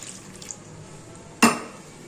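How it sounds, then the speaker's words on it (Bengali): Water is splashed into a pan of cabbage curry in one sudden burst, a short bright pour rising out of quiet kitchen background and quickly fading. "তাই আমি এর মধ্যে একটুখানি জল দেব"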